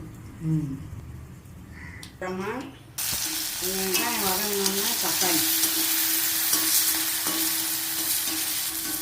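Dal hits a hot pan for a bitter gourd fry and bursts into a loud, continuous sizzle that carries on steadily; before it starts, a voice and a few scattered kitchen sounds are heard.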